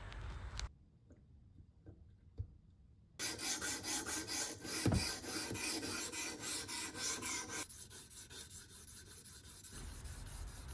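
A hand-forged bowie knife blade is drawn back and forth on a TS Prof sharpener, giving a steady rhythmic rasping scrape that starts after a brief quiet stretch and continues close and even throughout.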